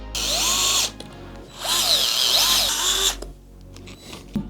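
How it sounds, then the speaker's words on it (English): Gyroscopic electric screwdriver with a 3mm Allen bit driving plate screws, heard as three close, loud whirring bursts, with short pauses between them and a rising whine in each run. "I'm gonna screw all these in with, you know what, my handy dandy gyroscopic screwdriver, 3mm Allen bit"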